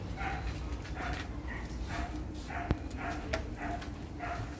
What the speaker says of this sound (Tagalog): Ingay ng kapitbahay nyo na aso